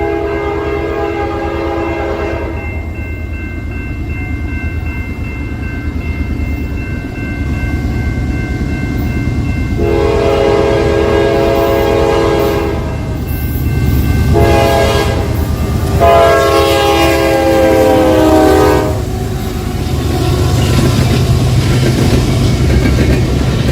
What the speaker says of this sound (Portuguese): Vocês perceberam que a frequência do trem detectada por um observador posicionado em um ponto fixo próximo aos trilhos foi se modificando